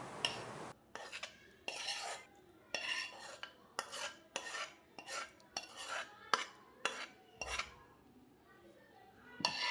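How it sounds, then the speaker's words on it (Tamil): Eggs are beaten with a little salt in a bowl, a fast series of close, bright clinking strokes from utensil against the bowl, in bursts separated by short pauses. "கொஞ்சமாக உப்பு போட்டு அடிச்சுக்கலாம்."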